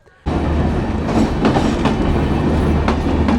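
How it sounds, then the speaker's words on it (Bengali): A train pulls into the platform at Pirganj railway station in Thakurgaon district. Its steady, loud rumble rolls on throughout, broken by sharp, periodic wheel clacks, with no voices. "ঢাকা থেকে ট্রেন অথবা রাশিয়ার থেকে ট্রেন স্টেশনের প্ল্যাটফর্মে মাত্র প্রবেশ করলো"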